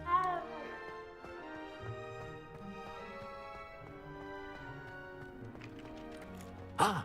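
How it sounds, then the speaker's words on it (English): A cat meows in the video game Hogwarts Legacy, with brief cries near the start and end under steady background music. "Y'all just got cats running around here, man."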